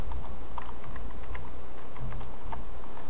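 Fast, steady clicking of keys as C# code is typed on a computer keyboard, close and alone, with no talking.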